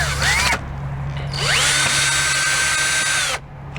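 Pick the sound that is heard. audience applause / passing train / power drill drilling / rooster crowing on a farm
power drill drilling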